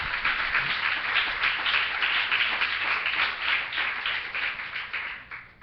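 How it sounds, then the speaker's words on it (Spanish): A church congregation claps together in steady rhythmic unison, a dense bright patter of many hands that carries on evenly and fades slightly at the end. "Le damos palmas al Señor."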